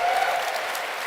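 Dense crowd applause at the QuakeCon 2024 convention for the id Software team, a steady full wash of many hands clapping with a faint whoop near the start.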